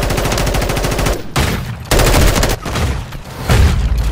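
An M4 rifle fires in a video game in long, loud, rapid automatic bursts with short gaps between them.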